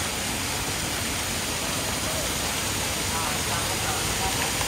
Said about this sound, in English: We're walking through the water tunnel.